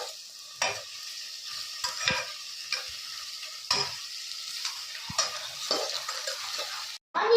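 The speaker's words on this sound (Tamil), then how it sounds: "நம்ம வெங்காயம் பச்சை மிளகாய் எடுத்துக்கலாம். மிக்ஸ் பண்ணிக்கலாம்." Onions and green chillies sizzle in hot oil for kuska biryani while a spoon stirs them, making a steady frying hiss punctuated by regular scraping strokes against the pan.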